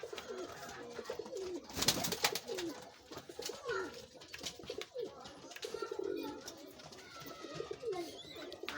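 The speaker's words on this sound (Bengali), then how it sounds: "এই দেখুন প্রত্যেকটা পায়রা সেলের জন্য আছে।" Large western-breed pigeons kept for sale, including red and black varieties, coo softly and repeatedly at close range, with rustling and faint background noise around the calls.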